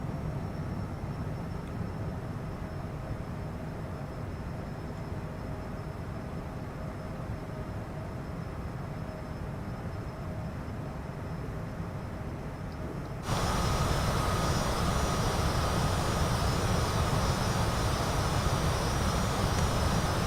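A Cessna Citation CJ4 jet in Microsoft Flight Simulator 2020 roars steadily during takeoff. The engine noise holds constant, then jumps abruptly louder and brighter partway through, with no talking.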